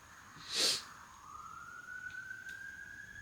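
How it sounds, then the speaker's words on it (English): A faint siren tone slowly rises in pitch far in the background, following a brief loud burst of noise near the start. "there's a siren in the background"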